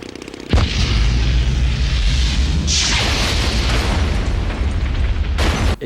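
A loud, sustained explosion at a gas station in a children's movie, a deep rumbling blast that erupts suddenly and roars on for several seconds with a second surge partway through, no voices.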